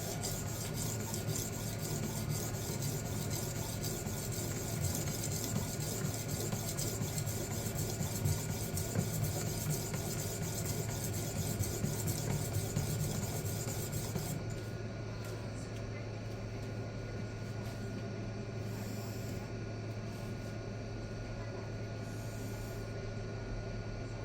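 Blade being sharpened on Ruixin resin bonded diamond stones, 1x6 inch, a steady dense rasping stroke after stroke that runs on for about fourteen seconds, then gives way to a quieter, duller rubbing.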